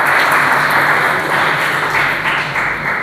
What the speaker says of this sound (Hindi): मैं चाहूँगा सुख जी के लिए एक बार जोरदार ताली हो जाए।